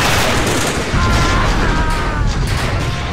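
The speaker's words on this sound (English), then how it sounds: "Our half-track's shooting back at us." A half-track's gun firing in Achtung Panzer Operation Star: a continuous, loud wash of battlefield gunfire and booming, dense and close for the few seconds heard.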